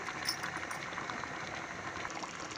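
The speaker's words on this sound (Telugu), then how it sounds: "చూసారు కదా ఉడుకుతుంది" Steady bubbling of rice water boiling in a pot, a continuous soft rolling hiss with no voices, close and moderately quiet.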